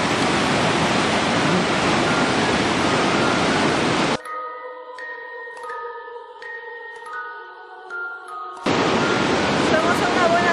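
A river flows far below a suspension bridge with a loud, broad rushing roar that drops out for several seconds while soft chiming music plays, then the rushing water returns at full strength.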